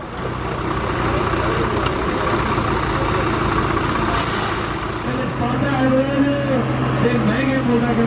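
Sonalika 750 tractor engine at a tractor tug-of-war event, running with a continuous rumbling drone throughout, with voices faintly mixed in.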